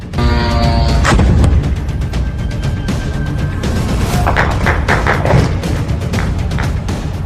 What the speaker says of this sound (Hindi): धमाकों से गूंज उठी मनामा की रात